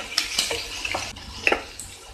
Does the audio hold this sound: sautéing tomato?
yes